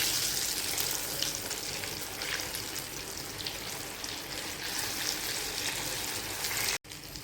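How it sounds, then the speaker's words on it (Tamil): Crispy snacks deep-fry in hot oil in a kadai, a steady, fairly loud bubbling sizzle that runs unbroken almost to the end, with only a brief cut near the close. "இப்போ நம்ம ஒவ்வொன்றா போட்டு பொரித்து எடுத்துக்கலாம்"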